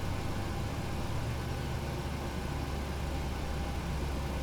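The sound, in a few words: PMDG 737 engine number 1 starting up in flight simulator game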